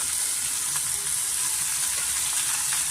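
Fresh spinach (palak) fries in a pan over a medium flame for moong dal, giving a steady, close sizzle with faint stirring scrapes throughout and no talking.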